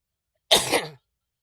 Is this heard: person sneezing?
yes